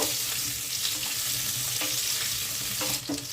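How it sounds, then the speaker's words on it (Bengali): Raw banana and potato pieces fry steadily in oil in a pan over a low flame, giving a continuous close sizzle with faint stirring scrapes near the end. "এবার কাঁচা কলা আর আলুটা একটু ভালোভাবে ভেজে নেব।"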